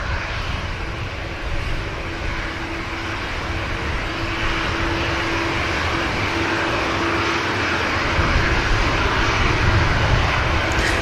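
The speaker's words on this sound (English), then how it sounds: "the EasyJet you just saw passing through the shot, that is the EasyJet flight to Amsterdam" An EasyJet airliner on the Amsterdam flight passes Manchester Airport's runway, its engine roar a steady, broad rumble that holds loud for the whole stretch and swells slightly toward the end.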